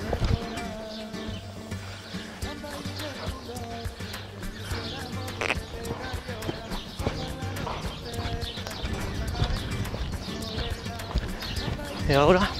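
A horse being schooled for the sliding stop moves at a gallop, its hooves clopping in a steady rhythm with a whinny in the mix, while someone speaks Spanish over the hoofbeats and birds chirp faintly in the background.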